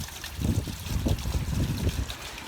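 Rainwater pouring off the edge of a roof with no gutters, a continuous splashing, trickling stream of water hitting the ground close by, steady and fairly loud.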